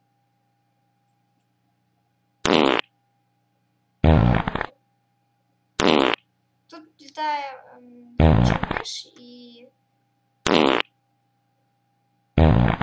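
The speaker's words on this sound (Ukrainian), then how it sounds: "вона пердить, як це б не було странно" A website plays a fart sound effect as a series of short, loud, sharp bursts at irregular intervals over near silence and a faint steady hum, with a child-like voice speaking briefly between them.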